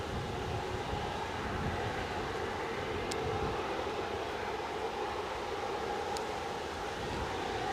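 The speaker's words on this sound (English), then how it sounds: "we have been a bit light on the old Wookiee sounds here at Edinburgh, but that 195 has come up trumps really" An Embraer 195 jet at Edinburgh airport gives its distinctive 'Wookiee' engine growl, a steady, loud broadband roar that holds without a break from start to finish.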